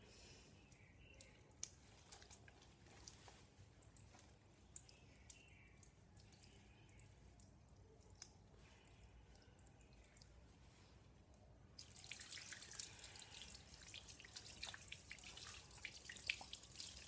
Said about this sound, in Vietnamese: Mình xả nước.